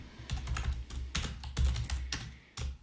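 Close, brisk clacking of keys on a computer keyboard while editing Revit family type names, with irregular clusters of keystrokes over a quiet background and no talk.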